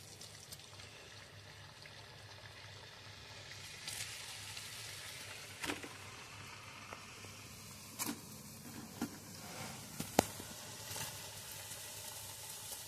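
Dal-stuffed luchi frying two at a time in oil in a small wok, a soft continuous bubbling sizzle at low level with a few scattered light clicks and taps of a utensil, no talking.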